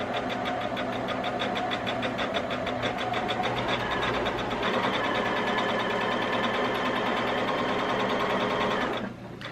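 A Baby Lock Jazz 2 quilting machine stitches a brown fat quarter with white thread, a fast steady mechanical whir and rapid needle ticking running continuously close by before stopping abruptly near the end.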